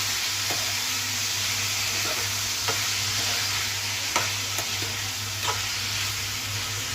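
Tomatoes, halved, frying in a pan with green chillies give a steady close sizzle with a low hum underneath and a few soft stirring clicks scattered through, no voices.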